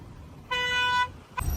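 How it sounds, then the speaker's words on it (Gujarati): A single loud car horn honk, about half a second long and close by, followed by a brief second tap, over low background rumble. "આ ભાઈ હોરન વગાડો તો"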